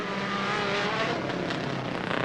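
A Mini rallycross car races around Boyd's Quarry, its engine giving a sustained, fairly loud roar that is heard on its own with no talk over it.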